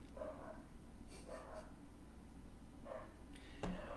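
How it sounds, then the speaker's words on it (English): Dogs bark faintly in the background, with three or four short, distant yips spaced a second or so apart in a quiet indoor room. "If you hear my dogs barking,"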